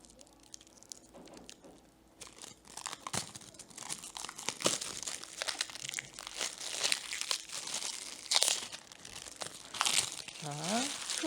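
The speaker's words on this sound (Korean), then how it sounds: "초를 뜯어야 되네요" Plastic wrapping is torn and crinkled off a candle up close. Irregular rustling, crunching and ripping bursts come in clusters, and a voice speaks briefly alongside.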